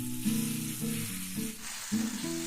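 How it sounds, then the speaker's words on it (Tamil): Tomatoes sauté in hot oil for a Tamil thuvaiyal or chutney, giving a close, continuous sizzle with faint stirring movements and no speech. "தக்காளி பழத்தை நல்லா பச்சை வாசனை போகிற வரைக்கும் வதக்கி எடுத்துக்கோங்க."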